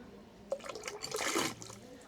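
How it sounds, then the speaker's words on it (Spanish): A small stone water fountain in the village of Zahara de la Sierra, Spain, trickles and drips softly in a steady, faint stream, heard alone without voices. "Una pequeña fuente que entiendo que tendrá agua."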